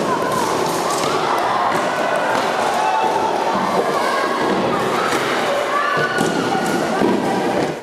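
Mock battle between Dacians and Romans with swords and shields at a school, with a dense, loud clatter of thuds and clashes mixed with crowd noise and a voice talking over it.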